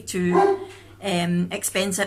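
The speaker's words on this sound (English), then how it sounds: "Please excuse the dogs barking" Dogs bark loudly and repeatedly close by, in sharp bursts with short gaps, while a person talks over them.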